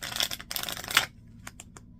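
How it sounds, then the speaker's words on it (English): A deck of White Reserve Note playing cards being shuffled, a second of dense papery riffling clicks followed by a few sparse, quieter card snaps, close by with no speech. "let's give this deck a couple shuffles and see how it feels and stuff"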